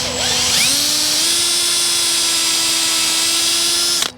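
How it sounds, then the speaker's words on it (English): A power drill boring a pilot hole into a very dry wooden post: a steady, loud high-pitched whine that spins up quickly and holds for about four seconds before cutting off. "we're gonna have to get a pilot hole drilled"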